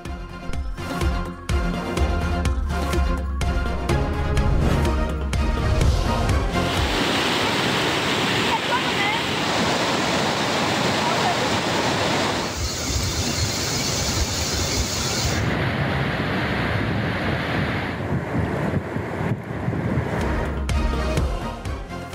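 Torrential monsoon rain and floodwater in Pakistani streets roar as a loud, continuous rushing wash, shifting in tone between shots, with an announcer's voice talking over it.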